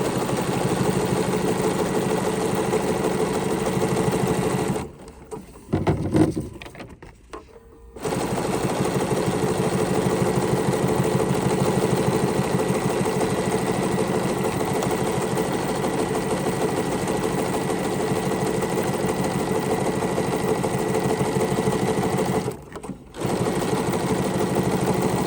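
A Bernina sewing machine with a double cording foot stitches rows in a loud, continuous rapid hum, stopping briefly twice before running on steadily.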